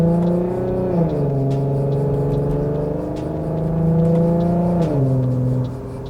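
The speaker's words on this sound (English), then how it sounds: "I hope this mic can pick up the exhaust." An Infiniti Q50 with the 3.7 engine rumbles through its exhaust at a steady, fairly loud drone, its pitch dropping twice as the revs shift and easing off near the end.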